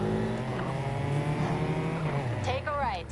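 Engine and exhaust drone of a car in the racing video game Need for Speed Heat, a steady loud rumble with a pitch sweep near the end, with voices talking over it.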